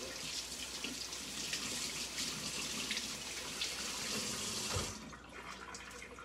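Tap water runs steadily into a sink to wet a cleaning cloth, a loud continuous splash that stops abruptly near the end, leaving a quieter room tone.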